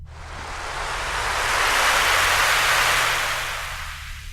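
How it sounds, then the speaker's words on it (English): Seashore sound from the SGM sound font: a single broad wash of surf noise that swells smoothly to a peak and then recedes, heard alone and steady. "The seashore sound came from the SGM sound font as well."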